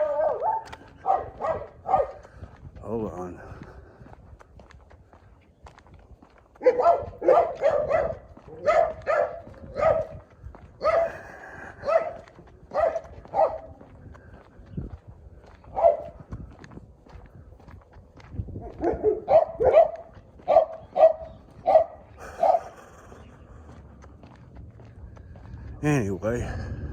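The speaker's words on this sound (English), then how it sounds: "Those stupid dogs." Dogs bark in several rapid bursts during an outdoor walk at a park by a river, fairly close and clear, with someone talking in between and footsteps underneath.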